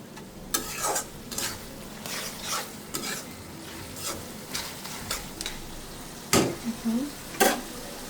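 Spices and dried fish sautéed in a pan for an eggplant curry, a soft sizzle broken by repeated sharp scrapes and clinks of a spoon against the pan, close and uneven.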